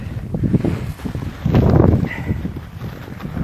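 Gusty wind buffets the microphone in low rumbling bursts at a sledding hill, strongest in a surge around the middle, with no talking.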